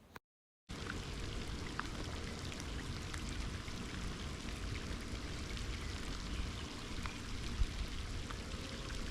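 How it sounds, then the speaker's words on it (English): Steady rain falls during a bass fishing outing, a continuous dense hiss of drops spattering nearby surfaces and water, loud and unbroken after a brief silent gap at the start. "rain's not letting up till 6"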